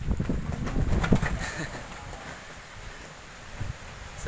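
Strong wind gusting over Pamengpeuk in southern Garut, a rough, fluttering rush that swells loudest in the first second and a half, then eases to a steadier outdoor roar with a few brief bursts.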